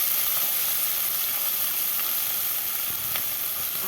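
Diced potatoes fry in a hot pan, a dense, continuous hiss and crackle that stays close and even throughout, with no voices.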